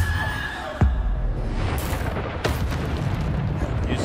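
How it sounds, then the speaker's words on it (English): A Bombardo spell detonates in Hogwarts Legacy, landing as a sudden deep boom just under a second in, followed by more sharp blasts of roaring magic over dense game noise. "Bombardo is crazy."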